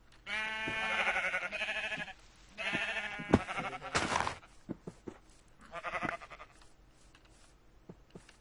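Sheep in the video game Minecraft give several loud, close bleats in bursts with short pauses between them, and scattered clicks and small game sounds fill the gaps.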